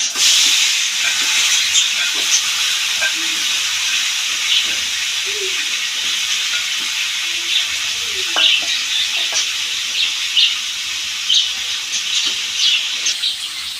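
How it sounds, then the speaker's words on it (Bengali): Taki fish frying in a hot wok, a steady loud sizzle and crackle close up, with faint voices and small clinks in the background. "কড়াই গরম হচ্ছে মাছ দিয়ে দিলাম"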